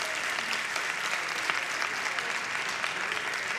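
A church congregation bursts into hand clapping during a sermon gathering, a dense, steady roll of many hands filling the room at moderate loudness with no voices over it.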